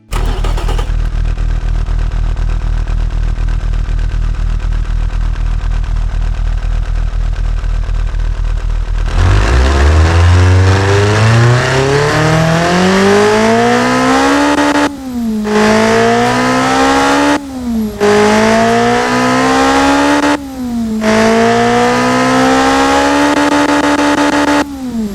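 A Nissan KA24DE built as a racing engine runs through a steady mechanical whine, then fires up and revs hard in several rising bursts, with sharp drops between throttle blips, loud and close.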